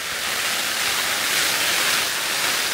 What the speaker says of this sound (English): That's proper heavy rain